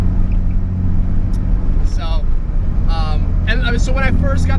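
A tuned, turbocharged Nissan 240SX engine drones steadily from inside the cabin while driving, low and constant, while a person talks over it.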